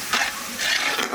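Mutton is stirred into sizzling ginger garlic paste in a pan, giving short scraping strokes over a soft, steady frying hiss, close and brief.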